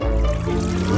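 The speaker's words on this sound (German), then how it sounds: "Gießen wir es in die Gesichtsmaskenmaschine und fügen eine Minztablette hinzu." A liquid brew pours steadily into a face mask machine, a continuous close splashing rush with no talking over it.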